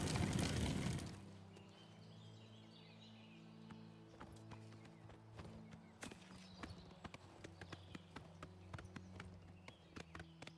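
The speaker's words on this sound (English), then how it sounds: "Here's my horse." Steady clip-clop of horse hooves in a rhythmic trot in the video game Oblivion, over a low droning music bed, with a brief loud burst at the start.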